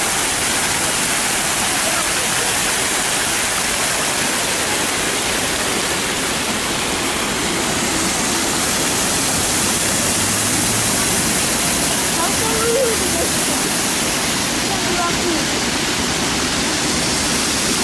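Fountain water pours and splashes steadily in Tiraspol, a loud, continuous broadband rush filling the whole span, with faint voices underneath.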